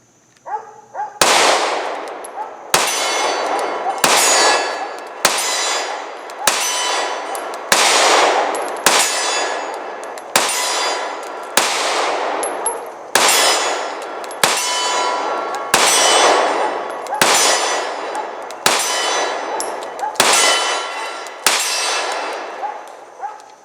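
A Sig P320 Compact 9mm pistol fires 124 grain NATO-spec rounds at 20 yards, about sixteen sharp, loud shots in a steady, evenly spaced rhythm, each with a ringing, clanging tail.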